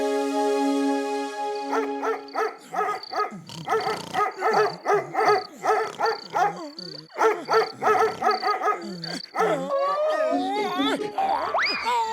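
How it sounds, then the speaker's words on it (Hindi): A cartoon dog in Motu Patlu barks over and over in a fast, rhythmic run of loud, close barks, with long sustained vocal tones before and after the barking. "ये डॉगी तो सोने ही नहीं देता, जब देखो भौंकता ही रहता है"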